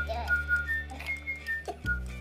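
A person whistles a run of short, separate notes for a Little Live Pets butterfly toy, close and clear in a quiet room, with a low hum underneath.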